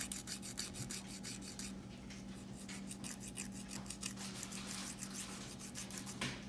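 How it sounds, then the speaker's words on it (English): A nail file rasps back and forth across fingernails, a steady run of soft, close scraping strokes with an even rhythm, alone and without talk. "Rub the file back and forth on the uneven parts of your nails."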